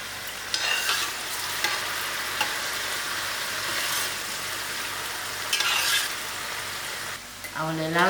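Onions fry in half a cup of hot oil in a pot, producing a dense, steady sizzle with a few sharp stirring scrapes, and a brief voice near the end.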